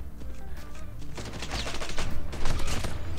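Rapid shotgun blasts from the Damascus R9-0 in a first-person shooter, a dense, continuous burst of overlapping gunfire that grows louder and more intense toward the end.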